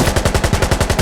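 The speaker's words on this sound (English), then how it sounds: "Can't get an anti-material machine gun, so I gotta make do with the budget one" Budget machine gun in Insurgency: Sandstorm firing a steady automatic burst, about nine or ten evenly spaced close, loud shots with no pause.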